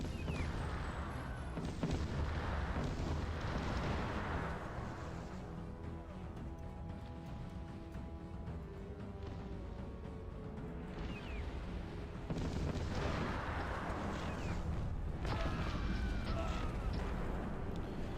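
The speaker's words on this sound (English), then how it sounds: "the artillery did mess us up a little bit there" Artillery fire in the video game Cossacks: Back to War, with deep booming blasts rolling through a dense, continuous battle din that swells and fades over the stretch.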